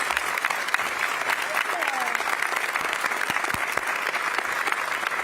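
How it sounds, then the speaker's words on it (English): Loud, dense applause from the audience at a Miami mayoral debate, continuous rapid clapping sustained for several seconds with a few sharper individual claps standing out. "A big round of applause to our candidates."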